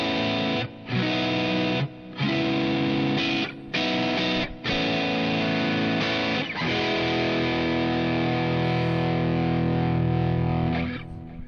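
Electric guitar played through a distortion setting in the BIAS FX app, thick saturated chords ringing loudly with brief stops between phrases, then a long sustained chord fading out.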